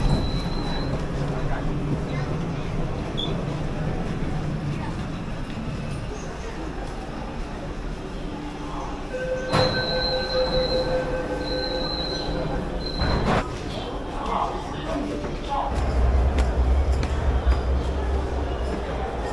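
A metro train runs through the Hefei subway in China with a constant rumble, and sharp, high wheel squeals rise partway through before the roar swells again near the end.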